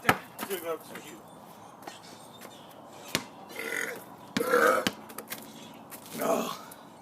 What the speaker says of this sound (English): Two burps for you.